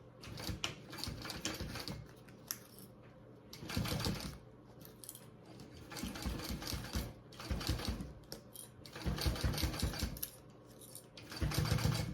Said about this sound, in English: Now I'm going to go ahead and sew those on